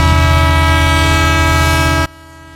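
Loud, sustained grinding drone of a moving freight train with dense tonal squeal from its wheels, cutting off abruptly near the end.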